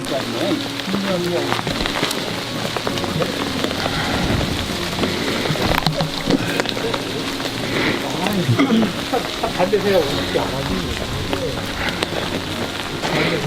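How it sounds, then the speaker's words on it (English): Steady rain falls in a rainy scene of the video game Kingdom Hearts III, a dense continuous patter with soft hiss throughout, and faint game sounds and occasional voices mixed underneath. "Now I'm walking back in the rain."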